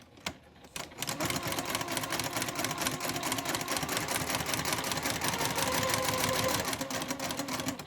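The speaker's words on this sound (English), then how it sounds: "I'm going to go forward a few stitches and do a back stitch." Sewing machine running continuously while stitching a Christmas stocking, forward stitches then a back stitch, a steady close mechanical whir with rapid needle clatter throughout.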